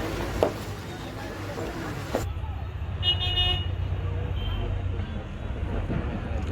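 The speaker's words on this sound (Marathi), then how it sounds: "ट्रॅफिक आहे बरोबर" Traffic noise around an MSRTC state transport bus stuck in market traffic in Mangaon, on the Chiplun to Mumbai route: a steady low road rumble with a brief horn-like toot, heard from inside the bus, with some voices over it.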